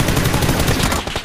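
Rapid automatic gunfire in the battle royale game PUBG during a scrim, a dense continuous burst of shots filling the whole moment, loud and close with no voices over it.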